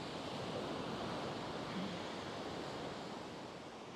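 Steady, broadband wind rushing across the microphone, a constant roar with slight gusts and no voices.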